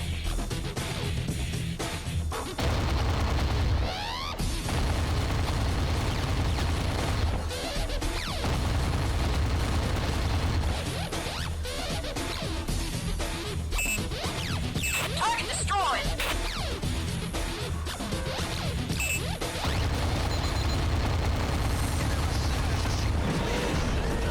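Dull underwater booms and crashes of torpedo explosions in the video game AquaNox, several impacts over a rumbling mechanical background with a voice talking at times.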